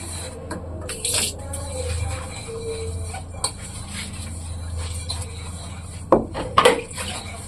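Plates and cutlery are washed at a sink, with running water hissing steadily under repeated clinks and clatters of dishes and utensils, close up and ending in a sharper burst of clanking.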